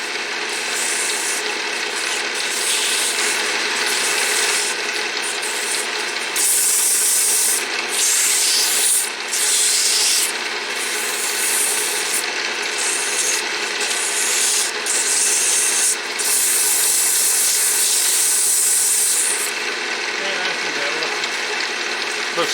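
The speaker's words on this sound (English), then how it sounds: "With the ultra fine sandpaper." Hand sanding with ultra fine sandpaper, probably on wood, a steady close rasping rub that runs on without a break, with brief rhythmic changes in stroke and a voice now and then underneath.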